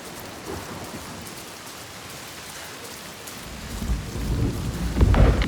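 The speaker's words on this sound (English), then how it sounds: "The rain never stops." In the Hellblade II video game, steady rain hisses across the scene as a deep rumble of thunder swells in the last seconds.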